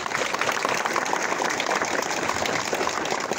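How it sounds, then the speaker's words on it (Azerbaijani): An audience applauds steadily at a spring-opening memorial ceremony for a fallen senior lieutenant, with dense, continuous clapping filling the whole stretch at moderate loudness. "Həqiqətən Kamilə böyük alqış düşür"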